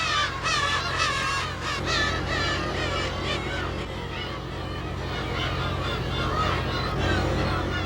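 A flock of seagulls on Dokdo island, a rocky outcrop in the East Sea, calls continuously in overlapping harsh cries, loud and close over a steady low background drone.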